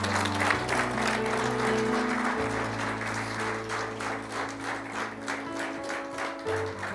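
Applause from a church congregation during a Spanish-language prophetic sermon, a steady wash of clapping lasting the whole stretch over a low sustained music or organ tone, with faint voices mixed in.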